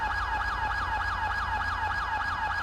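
A police siren wails in a steady, rapid up-and-down cycle, loud and close over a low engine rumble, in the video game GTA 5 on a roleplay server.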